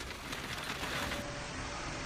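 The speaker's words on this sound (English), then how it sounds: "The rain is pouring down so heavily that I can barely see anything in front of me." Heavy rain in a downpour, a steady dense hiss of drops striking surfaces with no pauses, heard alone without voices.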